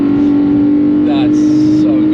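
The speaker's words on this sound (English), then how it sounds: "I'm just gonna let the intake sing a bit because it's just so enjoyable." A car's engine intake drones steadily and loudly while the car drives in low gear, with a constant, close, unbroken hum from start to finish.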